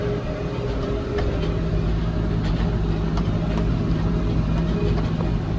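A tractor engine drones steadily and loudly while fluffing hay windrows in a field, a continuous low rumble with no breaks and no talking.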